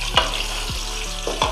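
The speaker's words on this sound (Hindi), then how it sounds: "थोड़ा सा इसको फ्राई करेंगे 2-3 मिनट के लिए।" Meat (gosht) sizzles in half a cup of hot oil for an okra and meat curry, a constant crackling fry broken by three sharp scraping stirs of the pan, close up.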